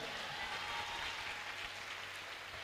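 A church congregation applauds for the Lord, a steady, even wash of many hands clapping throughout with no clear break.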